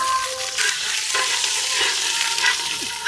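Dried red chillies and small onions frying in hot oil in a pot over a village wood fire, a steady loud sizzle and crackle with occasional stirring scrapes, no voices.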